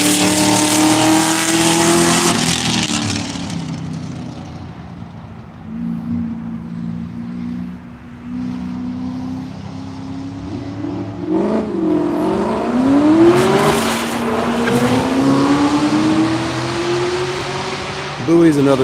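Race cars sweep past on a lap at Virginia International Raceway during a One Lap of America session, engine notes rising and falling with Doppler swoops, loud and continuous, with a commentator talking over them.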